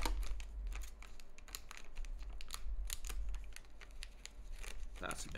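Static bag being cut open with a knife during an unboxing, close, faint crinkling and scraping with irregular sharp ticks and rustles, under someone talking quietly.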